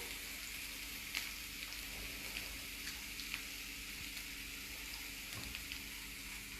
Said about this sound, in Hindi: तो यहाँ पे हमारी अदरक और सब भून रहे हैं